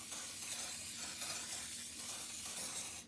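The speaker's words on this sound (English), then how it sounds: "I'm gonna use some cooking spray." Cooking spray hisses steadily onto chicken pieces in an air fryer basket, a close, continuous burst of spray lasting about three seconds.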